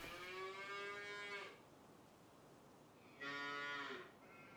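Cattle on a farm in a video game give two long, loud moos separated by a short quiet pause, with no talking over them.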